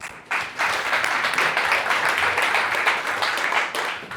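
A crowd at a startup meetup at the Google Startup Hub claps in a warm, dense burst that starts abruptly and holds steady, loud and close, with no speech over it.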